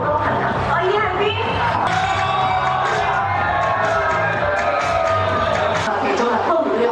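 A crowd at a TVB drama promotional stage event cheers and shouts loudly and steadily, with voices and amplified sound running underneath the whole time.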